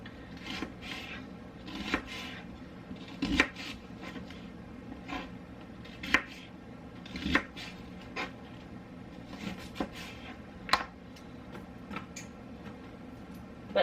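A small knife cuts through a big onion on a board, giving a run of faint, quiet taps and scrapes at an uneven pace, some strokes sharper than others.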